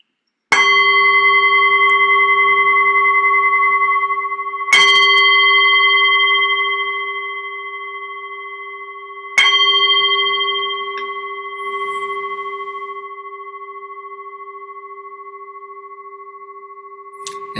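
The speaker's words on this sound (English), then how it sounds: "So I'll just ring the bell and then we can get started with our meditation." A meditation bell is struck three times, spaced several seconds apart. Each clear, bright strike rings out loudly and hums for a long time as it slowly fades, with no talking.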